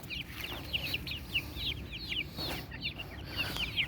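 Several chickens in a chicken tractor cluck and murmur continuously close by, overlapping soft calls over a low background hum.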